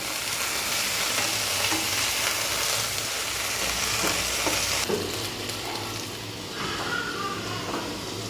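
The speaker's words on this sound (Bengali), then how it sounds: "লবণ দিয়ে এবার এটাকে আরও পাঁচ থেকে সাত মিনিট ধরে ভেজে নেব ঢাকা দিয়ে যেন ঢেঁড়সগুলো ভাজার সময় হালকা সেদ্ধ হয়ে যায়" Okra fries in a pan while being stirred, a continuous sizzle layered with spatula scrapes and shuffling that softens slightly partway through.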